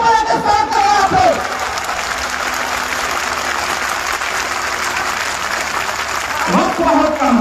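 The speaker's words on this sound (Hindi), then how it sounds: "जोरदार ताली बजा के स्वागत करें यहाँ पे।" A crowd at a political rally applauds in a sustained, loud burst of clapping, with someone speaking just before and after.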